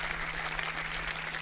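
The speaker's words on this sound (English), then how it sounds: "as we all clap because we're so happy" Audience applause at Google's Search On event, a steady, dense wash of clapping that stays even and moderately loud throughout, with no voices on top.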